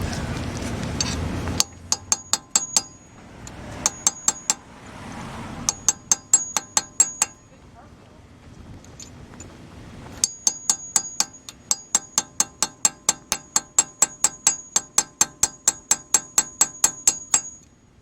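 A hammer strikes a chisel during a 1997 Honda Civic engine rebuild, sharp metallic clinks in quick bursts and long steady runs of repeated blows, loud and close.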